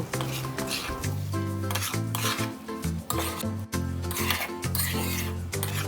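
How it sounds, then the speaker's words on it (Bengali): Fried vegetables, cauliflower and paneer, are stirred into spice paste in a pan. A spatula scrapes and rasps rhythmically against the metal with a light sizzle, all under steady backing music. "মশলাটি থেকে তেল ছেড়ে এলে এরপর ভেজে রাখা সবজিগুলি তার মধ্যে দিয়ে ভালোভাবে আবারও কষাতে থাকব"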